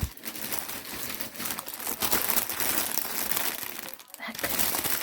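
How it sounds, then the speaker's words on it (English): Packaging from Easter swap mail crinkles and rustles steadily at close range while being unwrapped, with a brief quieter dip near the end. "so much crinkling, sorry"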